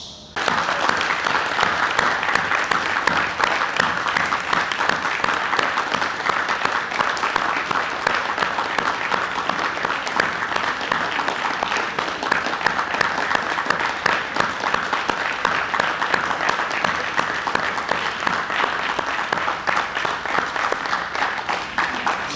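A standing audience at a screening of a film about gender-based violence in Guinea applauds loudly and continuously, a dense unbroken wash of clapping lasting over twenty seconds with no talk.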